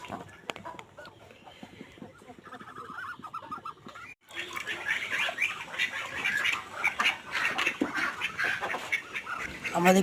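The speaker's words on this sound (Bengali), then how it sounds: "আমাদের রাজহাঁস ও চীনা হাঁসকে ধান খেতে দিলাম। দেখুন কি সুন্দর করে ধান খাচ্ছে।" Geese and Chinese ducks feed on paddy grain, with a busy mix of nearby quacks, squawks and cackles that swells after a brief quiet start, along with dabbling sounds and some voices.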